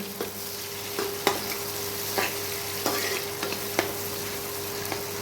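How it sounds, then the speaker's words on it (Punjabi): Onion, garlic and masala fry and sizzle in a pan for Punjabi kadi pakoda, a steady close sizzle broken by several sharp scraping stirs of a spoon, with no talk. "ਇਹਨੂੰ ਆਪਾਂ ਚੰਗੀ ਤਰ੍ਹਾਂ ਫਰਾਈ ਹੋਣ ਦੇਣਾ"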